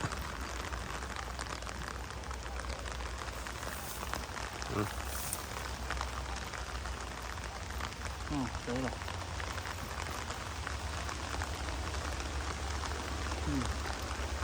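Steady daytime rain falls outdoors at a shrimp pond, a dense continuous hiss of drops with faint voices talking underneath.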